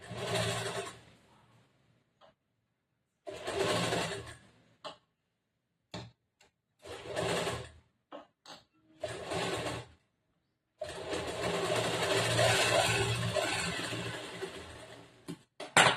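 A household sewing machine stitches a plain blouse in bursts of rapid mechanical clatter, several short runs separated by pauses, then one long continuous run near the end.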